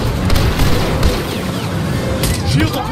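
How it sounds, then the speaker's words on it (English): A grenade blast in Star Wars Battlefront on Starkiller Base booms amid continuous battle noise and scattered gunfire, with muffled voices calling out over the din. "Throwing grenade!"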